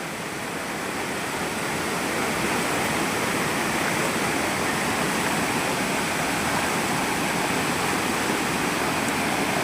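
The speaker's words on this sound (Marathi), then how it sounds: "सुंदर असा धबधबा आहे।" A waterfall beside Vyaghreshwar temple in Pen roars as a dense, unbroken rush of falling water, loud and close and steady throughout with no voices.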